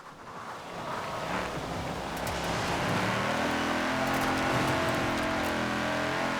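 A racing car engine revs hard and climbs through the gears during a Forza Horizon 4 Rivals lap race, a loud, continuous roar with road and wind noise building steadily throughout.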